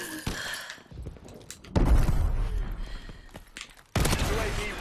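Heavy shotgun blasts in Call of Duty: Advanced Warfare multiplayer, loud booming shots with chaotic battle noise between them, several bursts spread across the stretch.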